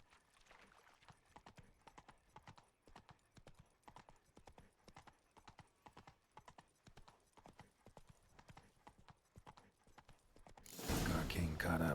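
Horse hooves clip-clop at a brisk, steady rhythm in The Witcher 3, close and continuous, ending in a loud burst of noise.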